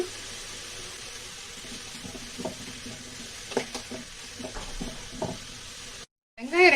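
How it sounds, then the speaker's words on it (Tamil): Onions sautéing with green chillies and curry leaves for a bread roll filling, a steady moderate sizzle with intermittent spoon scrapes and taps against the pan, ending in a brief cutoff. "வெங்காயம் நல்லா பொன்னிறமாக வதக்கி விட்டுக்கலாங்க"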